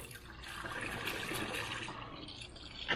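HKS Super Coolant pours into a Hyundai Genesis, making a steady gurgling, splashing liquid sound at close range for a few seconds.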